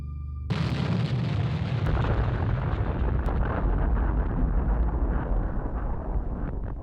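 A massive TNT blast sets off a sudden loud boom that swells into a long, heavy, rumbling roar with wind-like buffeting, sustained for several seconds.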